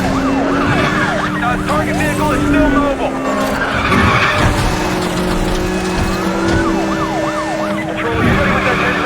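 Cars racing in the video game Need for Speed: The Run, with loud tyre skids, engine roar and wailing police sirens layered over one another, while someone talks over the action.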